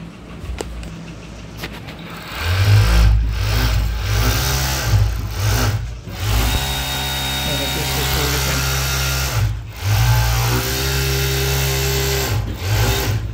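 A second-hand Jack flatlock sewing machine runs steadily and loudly up close, its motor whirring with brief surges and pauses, while someone talks over it now and then.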